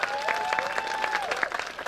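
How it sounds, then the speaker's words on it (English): An audience at an ArtNow 2024 arts event claps for young performers: steady, moderately loud applause with individual claps distinct, layered over a sustained musical tone in the background. "applause, please, for the young people"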